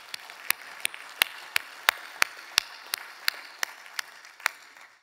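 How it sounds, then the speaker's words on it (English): Sparse applause at a college state-of-the-college address: about a dozen distinct, evenly spaced claps ring out sharply against a quiet background, with no talk. "That deserves another round of applause."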